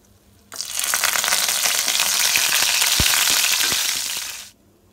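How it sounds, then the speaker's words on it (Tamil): Curry leaves drop into hot oil and burst into a loud, crackling sizzle that starts abruptly, holds for about four seconds with sharp pops, then cuts off. "இப்போ நம்ம கருவேப்பிலையை போட்டுக்கலாம்."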